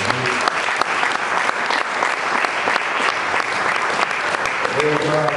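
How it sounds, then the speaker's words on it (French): A church congregation applauds steadily, a dense and sustained clapping heard close, with voices mixed in under the applause. "Est-ce qu'on peut acclamer aussi pour les hommes?"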